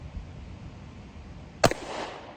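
A single sharp gunshot cracks at shooting practice, loud and close after a quiet stretch, and a short echo follows.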